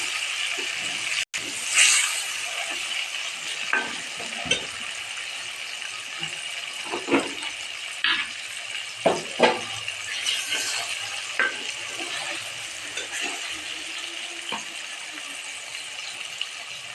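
Tomatoes go into a pot of aloo gosht with drumsticks, which sizzles and fries quietly in the background while a spoon gives scattered stirs, clinks and scrapes against the pot over a long stretch.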